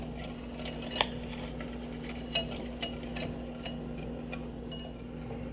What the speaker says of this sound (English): and just keep stirring